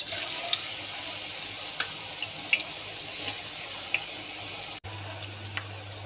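Banana slices fry in moderately hot oil in a wok for homemade chips, giving a soft, continuous bubbling hiss sprinkled with small crackles and pops, close and fairly quiet, with no talking.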